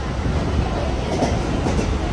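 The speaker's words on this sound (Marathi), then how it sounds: "ही बघा कशी गाडीत बसलेले आरुष ट्रेनमध्ये" Continuous rumble of a moving train near Badlapur, wheels rattling steadily on the tracks, loud and close from inside a carriage.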